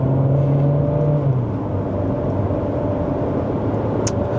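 A Chery Tiggo Cross 1.5 Turbo with a dual-clutch gearbox pulls away gently, its engine hum and drone steady and close, with a slight rise in tone as it moves off.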